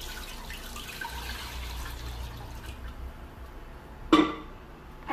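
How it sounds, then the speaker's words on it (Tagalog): Three glasses of water poured into a cooking pan for a simple shrimp and malunggay soup: a steady, close wash of splashing liquid, ending in a short, sharp clunk. "Maglagay lang tayo ng 3 basong tubig sa ating kawali."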